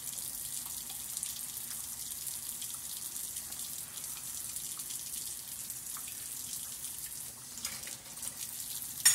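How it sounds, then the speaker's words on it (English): Tap water runs steadily into a cooking pot as more water is added to a pork rind dish, a continuous quiet hiss and splash with no talking. "I'm also gonna put a little bit more of water."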